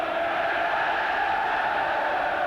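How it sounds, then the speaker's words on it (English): A vast football crowd behind the Liverpool goal at an FA Cup match, singing en masse as one steady, dense roar of voices that holds without a break at a distance. "This vast crowd behind the Liverpool goal, singing their way to Wembley"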